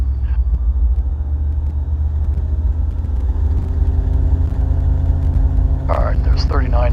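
A Bristell light aircraft engine drones steadily and loudly through a run-up toward 4,000 RPM, a dense continuous rumble heard from inside the cockpit, with a brief radio-like voice near the end.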